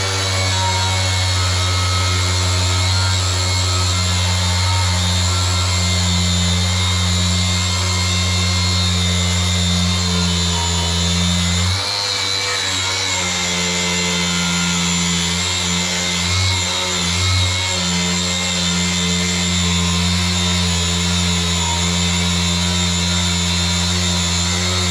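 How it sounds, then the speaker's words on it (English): A surface conditioning tool fitted with a 40-grit spaghetti wheel strips mill scale from steel for a 1941 Chevy truck restomod, a loud, steady motor whine with grinding, briefly dipping around the midpoint before running on, close and continuous. "That's 40 grit. It's the spaghetti wheel."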